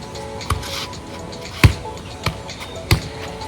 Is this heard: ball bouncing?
yes